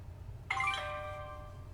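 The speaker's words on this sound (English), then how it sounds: "And there goes my phone again, because I play a game." A mobile phone game notification chimes once at moderate volume: a bright cluster of tones that rings out and slowly decays, with no talk over it.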